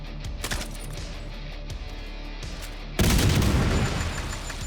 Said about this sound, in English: Then it's followed up with the cluster explosion that are now proccing Sledgehammer's damage buff.